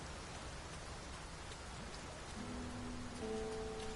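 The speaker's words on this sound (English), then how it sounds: "Rain!" Steady rainfall in the video game Dragon's Dogma 2, a dense, even hiss of drops that continues throughout, with a faint tonal hum entering near the end.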